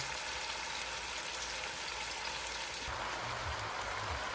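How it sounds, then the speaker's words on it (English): Goat meat for Jamaican curry goat sizzling and frying in a pan, a steady, fairly quiet crackle and hiss, with a shift in texture partway through and no talking. "So I have all the meat in the pan right now, and we're gonna let this cook out."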